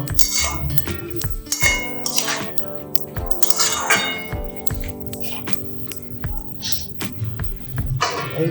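Metal clinks and clatters from cookware in a kitchen where chal kumro sukto simmers, as a lid goes onto the cooking pot, with several sharp knocks and rattles spread through the clip.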